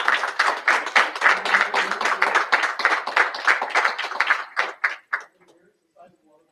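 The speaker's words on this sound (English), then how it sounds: "So could I get some applause for them," Audience clapping at a school board meeting, several seconds of steady applause from a room of people that thins out and stops, with a few voices afterward.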